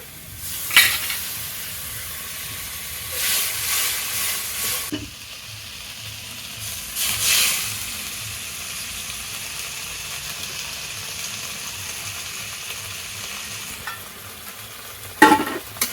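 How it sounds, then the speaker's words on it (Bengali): A mustard and poppy seed paste with spices is sautéed in a pan, producing a continuous soft sizzle broken by a few louder stirring scrapes and clinks, heard up close with no talking. "হালকা একটু কষিয়ে নেবো হয়ে গেছে কষানো সব মশলাটা"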